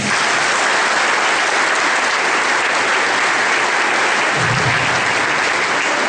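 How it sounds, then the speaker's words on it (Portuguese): Sustained applause from a congregation at a novena Mass, honoring the parents; steady, dense clapping fills the whole stretch without pause. "Palmas para os pais"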